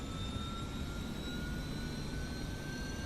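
Jet engines of a PMDG Boeing 777-200ER in a flight simulator give off a steady, moderately quiet whine and rushing exhaust roar with no other sounds.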